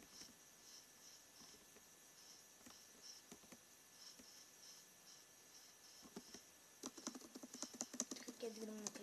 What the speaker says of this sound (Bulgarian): Ще си преместя това с клавиатурата.